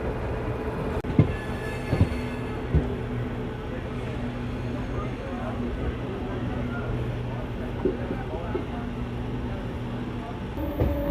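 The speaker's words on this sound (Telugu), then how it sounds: "మనకి ప్యారలల్ కూడా ట్రైన్ వెళ్తుంది" A Vijayawada–Narasapuram MEMU train rolls along with a steady low rumble and occasional sharp clanks from the track, while another train runs on the parallel line.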